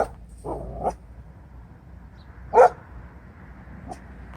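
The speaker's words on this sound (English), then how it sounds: "Dog's getting excited at the workman" A dog barks excitedly at a workman, giving a few sharp, separate barks spaced a second or two apart, one louder than the rest, against a quiet outdoor background.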